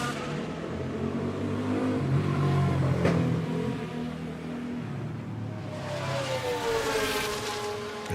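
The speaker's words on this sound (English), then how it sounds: "that was a motorbike going past my window" A motorbike passes outside a window, its engine note swelling and then fading as it moves away, heard over the steady racing-car drone of an F1 Manager session at the Hungaroring.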